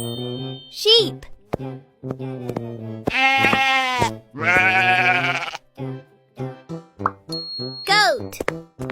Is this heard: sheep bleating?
yes